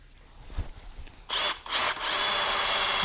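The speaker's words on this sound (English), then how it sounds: "I'm going to take this drill." A power drill starts after a few faint knocks, whining loudly in short bursts and then running steadily at high speed, close by, drilling aluminum.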